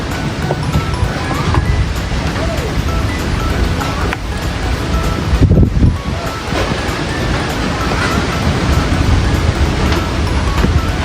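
Strong wind roars steadily outdoors at a bamboo hut, a loud broadband rush with gusting buffets against the microphone that holds throughout with no break.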